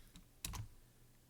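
A few quick clicks of computer keyboard keys, close and faint, with a brief cluster of taps followed by quiet.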